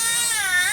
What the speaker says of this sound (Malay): Suara siapa yang menangis tu?